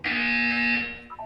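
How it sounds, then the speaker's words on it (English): An electronic buzzer in the video game Portal 2 sounds one long, loud, steady tone that then cuts off, followed by a few faint short blips. "You will hear a buzzer."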